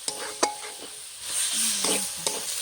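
Ground ginger and cumin paste fries in a pan for a Bengali banana-flower ghonto, with a soft steady sizzle broken by a few sharp spatula scrapes and knocks against the pan.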